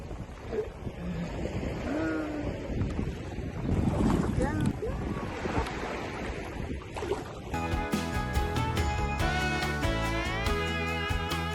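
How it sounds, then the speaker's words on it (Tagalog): Strong gusting wind roars across the microphone with surf in the background at Rabigh Corniche Beach, Saudi Arabia, then music takes over partway through. "Lakas pa ng hangin."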